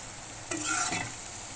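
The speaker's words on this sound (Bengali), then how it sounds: "আর এভাবেই সবগুলো পিঠা ভেজে নিব" Palm-fruit pitha fry in oil over medium heat, with a continuous sizzle and a short burst of stirring or turning around the middle.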